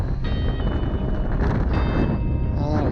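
Strong wind buffets the microphone near Devil's Pulpit on Mount Diablo, California, a loud continuous roaring rumble with gusty swells and no let-up.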